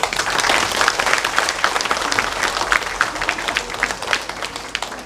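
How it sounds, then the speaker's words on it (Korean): Audience at a Korean citizens' public forum on household waste and incineration facilities applauds warmly, a dense sustained wash of many hands clapping at steady loudness throughout, with no speech over it. "정말로 뜨거운 박수를 우리 함께 보냅시다"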